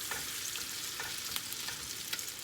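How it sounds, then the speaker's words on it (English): A salmon croquette fries in a skillet with a steady, soft sizzle and faint crackle throughout, quiet and continuous with no voices. "I'm going to take another ball of salmon and drop it in the skillet"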